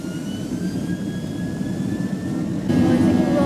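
Jet airliner rolling down the runway on takeoff and rotating, a steady loud engine roar with rising whine tones that swells louder near the end.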